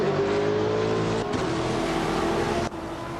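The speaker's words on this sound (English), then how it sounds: "The Betty White Show is driving a 2001 BMW M3 E46 GTR." A 2001 BMW M3 E46 GTR race car drones steadily at high revs in an auto race, a continuous loud engine note with brief dips as it shifts, no voices.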